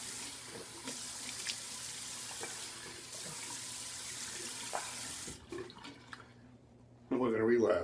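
Tap water runs steadily into a sink for rinsing off during a shave, a constant hiss with faint clinks, then cuts off near the end as a brief voice comes in.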